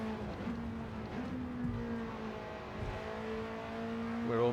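Alpine A110 engine in Gran Turismo 7 on the Tokyo Expressway, a steady sustained drone holding pitch with slight shifts, then climbing sharply at the end as revs rise, alone with no talk.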